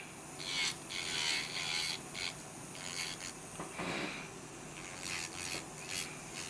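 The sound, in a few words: electric nail drill filing a nail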